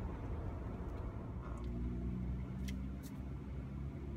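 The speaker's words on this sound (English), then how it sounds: "Driving the car" A 2013 Chevrolet Volt plug-in hybrid on the road, heard as a steady low rumble of road and tyre noise with a few faint clicks, and no talking.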